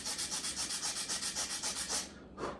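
Sandpaper rubs quickly back and forth over a turkey call, about fifteen rhythmic rasping strokes up close, then a pause and one last scrape.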